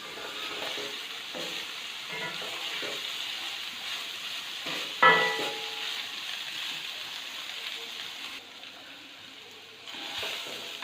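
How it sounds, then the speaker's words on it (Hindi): Chicken tikka pieces fry on low heat in a pan with a steady, close sizzle. Occasional stirring clinks and scrapes break through, along with a faint voice. "धीमी आंच पे हमने इसको अभी फ्राई करना है।"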